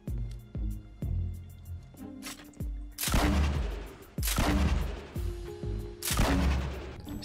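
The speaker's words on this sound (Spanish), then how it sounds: "Te he oído disparando." Rifle fire in the video game Fortnite: loud, sharp shots, a run of quick cracks followed by three heavier booming blasts spaced about a second apart, with no talk over them.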